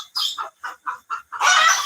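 Farm chickens give a rapid series of about six short, close clucks in an even rhythm, ending in a longer, louder squawk.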